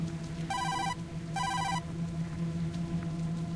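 Kazuki's phone rings from inside a dumpster in the video game Tokyo Dark: two bright electronic trill bursts separated by a short pause, over a low steady hum.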